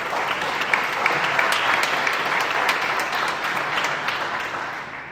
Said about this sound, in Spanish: Venga, un aplauso grande.